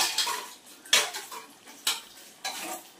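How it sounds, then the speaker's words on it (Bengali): A metal pot lid is rinsed and handled in a kitchen, giving four sharp clinks of metal on metal spaced about a second apart over a faint background hiss, with no one talking. "একটু ঢাকনাটাকে ধুয়ে নিই"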